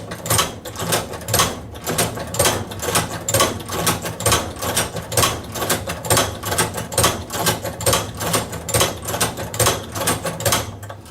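A hand-operated Cowboy Outlaw leather sewing machine stitches leather in a steady rhythm, each pull of the handle giving a sharp mechanical clack, repeating about twice a second, close and loud, with no talking.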